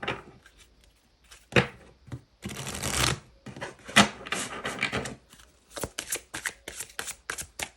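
Tarot oracle cards being shuffled by hand, close and fairly quiet, in repeated bursts of riffling and sliding that start and stop unevenly with brief pauses between.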